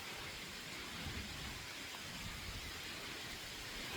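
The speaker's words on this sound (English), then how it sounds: "It's raining now." Steady rain falls outdoors, a dense, even hiss holding at constant level throughout with no voices.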